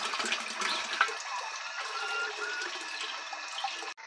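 Well water gushes from a hand-pumped home well, a steady splashing stream pouring close by without any voices, then cutting off abruptly at the end.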